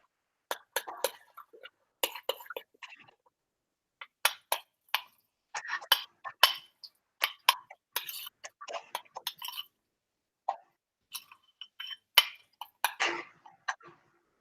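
Utensil scraping and clinking in a bowl as Greek-style food is mixed, a string of short, sharp taps and scrapes in irregular bursts, close and moderately quiet, with no talk.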